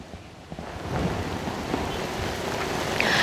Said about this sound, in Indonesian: Akibat hujan deras sejak Minggu malam ini